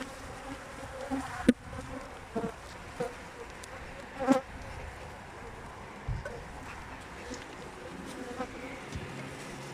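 Honeybees buzz steadily around a hive close by, a dense insect hum with occasional louder passes and faint clicks.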